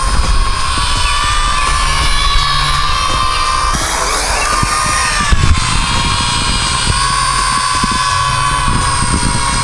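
Cheap Sky Defender toy drone flying outdoors, a continuous loud high-pitched whirring buzz from its small rotors that stays steady throughout with slight shifts in pitch as it moves.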